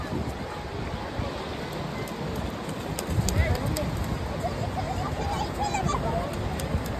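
Waves wash over seashells on a Gulf of Mexico beach, a continuous faint rushing surf with wind noise and a brief swell near the middle.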